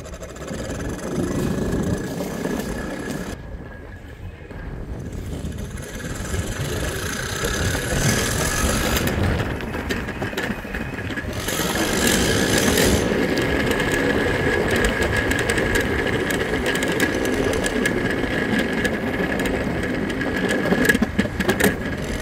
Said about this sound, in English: You can even see here that I'm riding my electric skateboard through campus